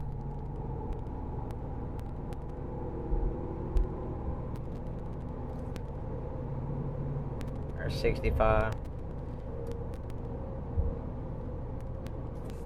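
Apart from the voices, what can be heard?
Ram 2500 pickup truck accelerating on highway, tire road noise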